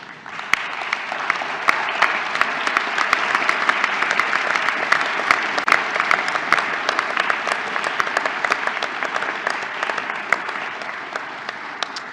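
A graduation ceremony audience in Melbourne applauds at length, a dense, even crowd of clapping with sharp individual claps standing out, sustained for about twelve seconds.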